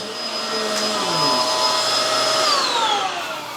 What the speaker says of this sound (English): Hoover seems to be struggling a little bit on this carpet. You hear the brush roll is slowing down a lot.